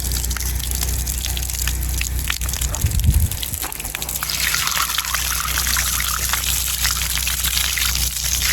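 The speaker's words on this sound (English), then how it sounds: "that's about how much water is going to come out without any pressure at all from the tank." Steady gush of water pouring and splashing continuously from an unpressurized tank outlet of a solar-powered well, with a brief low thump midway and a constant background hum.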